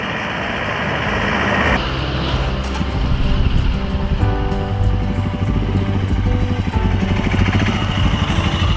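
A Royal Enfield Himalayan motorcycle rides along a Himachal road toward Jalori Pass. Its engine drones steadily up close, with a clear shift in tone around a gear change, then a continuous rumble with road and wind noise.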